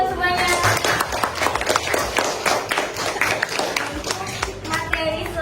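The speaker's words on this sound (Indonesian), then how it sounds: "Tepuk tangan dong semuanya." An audience of students at a civics class presentation claps together in a dense, steady patter of hand claps that keeps going evenly throughout.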